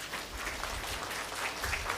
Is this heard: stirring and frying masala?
no